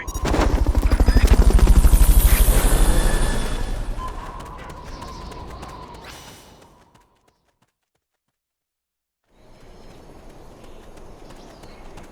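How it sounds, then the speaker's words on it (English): Helicopter rotor noise in the video game Metal Gear Solid Peace Walker, a loud pulsing chop that swells and then fades out into brief silence before quieter game ambience returns. "Fulton recovery subject confirmed onboard helicopter."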